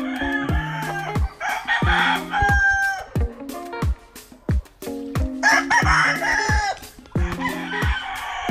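Backyard chickens during rainy weather, with a rooster crowing loudly and repeatedly at close range amid clucking hens, each crow a long rising and falling call.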